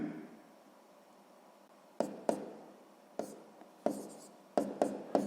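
Pen or pencil writing out a sixth-grade math exercise on paper, a series of short scratchy strokes and taps in a quiet room, close and fairly faint.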